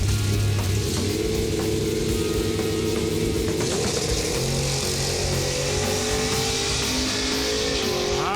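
A small-block Chevy powered Jeep CJ7 roars down the drag strip in a loud, sustained full-throttle pass, engine note climbing through gears at close range with no talk over it.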